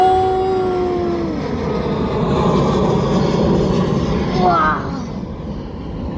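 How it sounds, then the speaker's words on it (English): A Ryanair Boeing 737 Max jet passes close by, its engines producing a loud, sustained roar with a descending whine. A voice exclaims over the noise as it goes by. "That's another Ryanair Boeing 737 Max."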